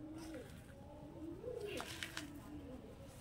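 Fancy pigeons of Pakistani Kamagar, Paschima Kalsira and Laldom breeds give low, rolling coos, a couple of throaty phrases rising and falling, faint and close amid quiet background murmur.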